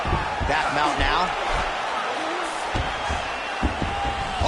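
Arena crowd noise from a UFC 5 mixed martial arts video game bout, a steady roar of cheering spectators with scattered whoops and thuds, running continuously under a commentator's voice.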